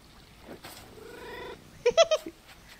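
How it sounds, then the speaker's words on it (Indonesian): A cat in the video game Stray gives a drawn-out meow, followed by a few short, louder chirping meows close up. "Haa, ini dia, ada kucing."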